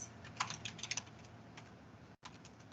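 Quick, quiet tapping on a computer keyboard, a close run of uneven key clicks with a brief pause near the end before typing resumes.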